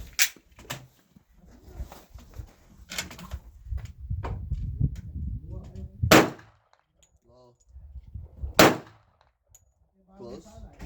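Glock 41 .45 ACP pistol fired at an outdoor range toward targets 100 yards out: several sharp, spaced single gunshots with quiet gaps between them and faint background rumble.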